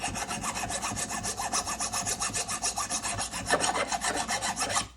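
A steel file rasps back and forth across a metal jaw harp, the strokes coming in a steady, close, repetitive rhythm with no voices.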